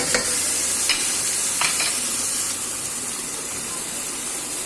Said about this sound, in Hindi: सब चीज़ों को अच्छे से भून लीजिए।